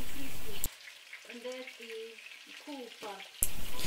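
Hot oil sizzles loudly as salmon fries in a pan, breaks off while a voice talks, then the steady frying hiss returns.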